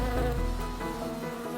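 Honeybees buzz steadily around a hive while worker bees gather nectar from flowering canola, a dense, continuous hum of many wings close by with no talk.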